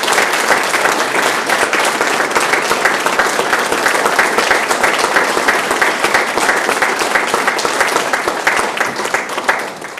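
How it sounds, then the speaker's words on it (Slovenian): Sustained, loud applause from an audience at a cultural evening in Slovenia, dense and steady for about ten seconds before easing slightly at the end. "Dajmo še en aplavz."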